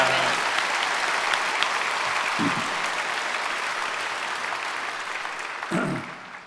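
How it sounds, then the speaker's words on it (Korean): Steady, dense applause from a large church congregation at a special early-morning service, holding at an even level before tapering slightly near the end. "이 학생들에게 박수하겠습니다"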